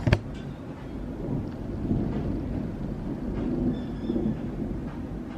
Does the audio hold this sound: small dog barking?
no